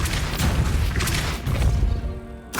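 Depulso spell effects from a Harry Potter video game, loud booming, crashing bursts that follow one another closely and end in a sharp final hit.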